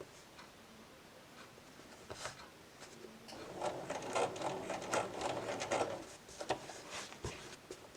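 Sewing machine working a blanket stitch for a quick appliqué, a faint rapid ticking that builds into a denser mechanical run mid-clip, then eases back to sparse clicks.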